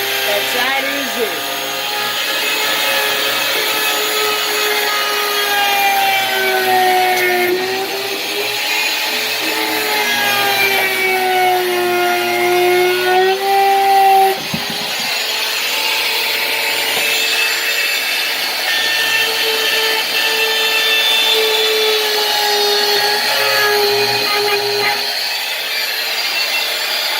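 A router or belt sander runs on wood, a loud, steady power-tool whine that holds almost unbroken for the whole stretch, with a brief dip in the middle.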